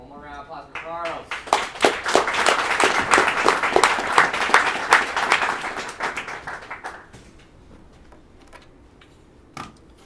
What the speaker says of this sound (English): One more round of applause for Charles.